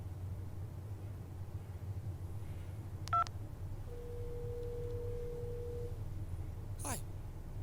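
A phone dials a call: a short burst of touch-tone beeps, then a steady tone and a brief sweep against a quiet background hiss.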